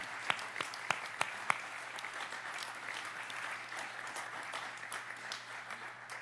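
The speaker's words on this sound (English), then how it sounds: "Let's give everyone a round of applause who fought for this." Audience at a New York City mayoral bill-signing event applauding, a few sharp individual claps at first, then steady, moderately distant clapping that continues evenly.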